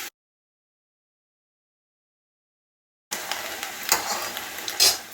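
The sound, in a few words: falafel deep frying in hot oil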